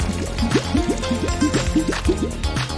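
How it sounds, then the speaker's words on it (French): Warm water being used to rinse hair, heard as a quick run of wet, bubbling drips and pours in an uneven rhythm, close and fairly clear, with no talking. "Puis rincez à l'eau chaude."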